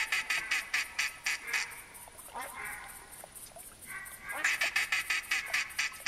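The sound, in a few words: ducks quacking in theHunter Classic video game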